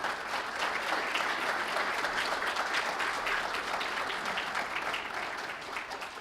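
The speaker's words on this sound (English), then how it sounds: "can we give them a round of applause for their support of you?" A crowd at a National Signing Day ceremony applauds continuously, dense even clapping at moderate volume that fades slightly toward the end, with no talk over it.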